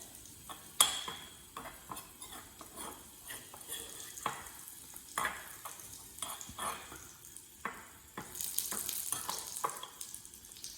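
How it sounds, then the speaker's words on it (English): Food is stirred in a sizzling pan with olive oil, soft scraping strokes and light clinks recurring over a constant frying hiss, close and fairly quiet, with no speech. "Stir that around."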